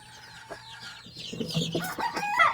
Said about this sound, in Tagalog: kasi medyo may ingay na yung mga uh, sisiyo natin